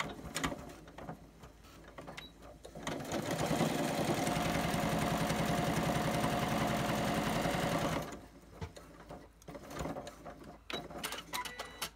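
A sewing machine stitches cotton and PUL fabric for a snack bag, giving a steady, close mechanical whir that runs for about five seconds, with quieter handling noises before and after.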